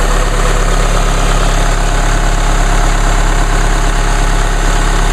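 2016 Chevrolet Colorado with the 2.8L four-cylinder Duramax turbo diesel idling on a cold start, a loud steady clattering drone with a constant whine above it, close to the engine and without talk.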